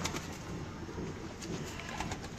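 Pigeons coo from a loft, a low steady murmur of overlapping calls over broadband background noise, with no clear breaks.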